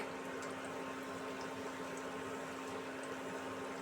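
Mung dal poa pitha, soft lentil fritters, frying in oil, giving a low steady bubbling hiss with faint pops, with an electrical hum underneath.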